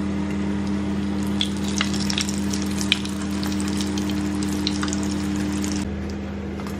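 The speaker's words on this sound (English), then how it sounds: "We're now gonna oil up for the kebabs, right?" Kebabs frying in oil in a pan, a steady crackling sizzle with scattered pops over a constant low hum, close and continuous throughout with no talk.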